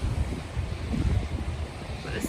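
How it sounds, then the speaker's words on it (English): Strong wind at the seaside in Eyemouth buffets the microphone in low, gusty rumbles, with a faint wash of sea in the background, as rain begins. "It's very, very windy."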